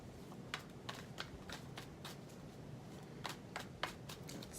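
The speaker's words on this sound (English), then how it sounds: "I'm going to go ahead and shuffle the deck" A deck of tarot cards is shuffled, giving a run of quick, crisp riffling clicks and flutters in uneven bursts over a faint room hiss, close and quiet, with no talking.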